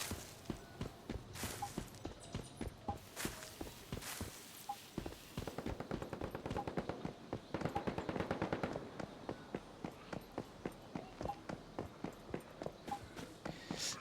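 Rapid bursts of sharp gunshots crackle repeatedly in the video game Once Human during PvP, some in fast volleys and others spaced apart, mid-distance and fairly loud throughout.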